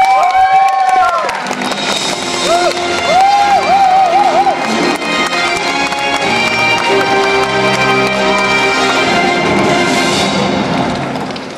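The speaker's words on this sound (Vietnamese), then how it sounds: "Xin quý vị một tràng pháo tay cho tất cả quý vị được không ạ?" A crowd at a Vietnamese pageant-style stage show claps and cheers loudly and continuously, with whoops and shouts rising over music, a voice briefly heard near the start.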